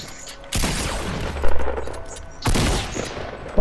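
Loud bursts of rapid automatic gunfire in the Fortnite Battle Royale video game, two long sustained volleys with a few heavier booming shots between them, close and dominant.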